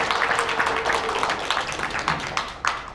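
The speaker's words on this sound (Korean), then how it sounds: "박수가 절로 나오신 것 같네요" Audience clapping at a Christian lecture's Q&A session, a dense run of hand claps with sharper individual slaps standing out, fairly close and steady, then thinning slightly toward the end.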